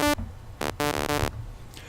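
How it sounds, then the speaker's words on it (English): Raw synthesizer sawtooth wave with almost no filtering, heard as loud, harsh, buzzy tones in three short bursts with a gap between them. "And I figured out this is a sawtooth wave."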